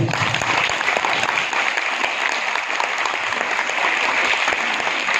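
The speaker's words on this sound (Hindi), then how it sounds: "जोरदार तालियां" Dense, steady applause from a seated audience fills the whole stretch, a continuous wash of many hands clapping at even loudness with no talk over it.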